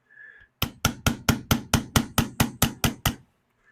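Twelve sharp, evenly spaced hammer taps from a brass or nylon hammer strike a part seized onto a shaft on a Savage 24B gun being restored, each hit loud and close after a brief low hum.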